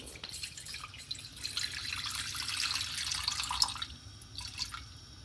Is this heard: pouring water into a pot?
yes